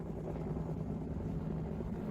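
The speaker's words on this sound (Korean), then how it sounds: "흰 연기가 피어오르고 산불 진화 헬기가 투입됩니다" A firefighting helicopter deployed over a mountain wildfire drones with a steady low rotor and engine hum, even and moderately distant, with no speech.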